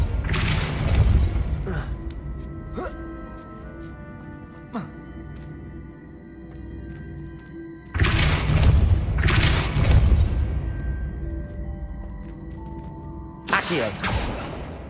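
Depulso force spell cast in the video game Hogwarts Legacy, heavy booming blasts with sharp cracks, several loud impacts separated by quieter rumbling stretches.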